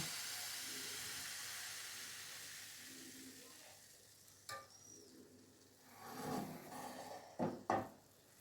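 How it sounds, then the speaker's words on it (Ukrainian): Soft sizzling of pancake batter poured into a hot pan, quiet at first and then rising with a few sharper scrapes and clicks of a utensil. "Смажиться млинчик наш."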